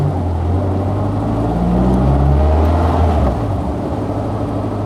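A Caterham CSR Twenty sports car takes a tight left-hand turn at near full steering lock, producing a loud, steady low engine drone and road rumble from inside the car, with no talking.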